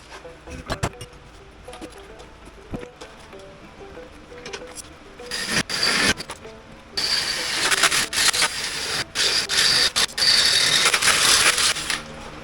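A worn-out electric drill whines steadily at close range for several seconds, boring through a 1932 Studebaker's steel frame, preceded by scattered clanks and handling noises of metal parts.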